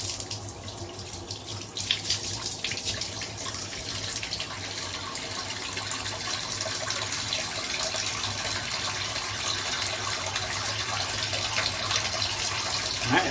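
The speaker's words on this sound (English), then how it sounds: "let it fill up a little bit" Water runs steadily from a faucet into a bathtub that is being unclogged after drain hair was removed, a continuous close hiss and splash filling the space, with no voices.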